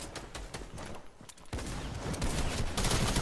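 Gunshots in Fortnite gameplay, a quieter run of rapid pops over the first second and a half, then a denser, louder burst of sustained fire that builds toward the end.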